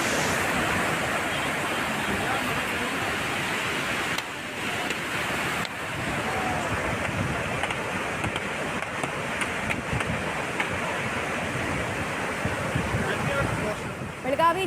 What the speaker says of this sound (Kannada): ನಿಪ್ಪಾಣಿಯ ಹಲವು ಕೆಳ ಸೇತುವೆಗಳ ಮೇಲೂ ಕೂಡ ನೀರು ಯಥೇಚ್ಛವಾಗಿ ಹರಿತಾ ಇದೆ